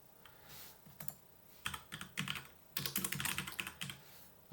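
A venue name is typed on a computer keyboard in irregular bursts of quiet key clicks, close and faint, with short pauses between flurries.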